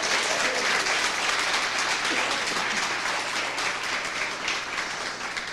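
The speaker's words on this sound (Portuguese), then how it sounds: "Pode dar uma salva de palmas ao Senhor." A church congregation bursts into sustained applause, dense, even clapping from many hands filling the room at a steady loud level throughout, with no voices standing out.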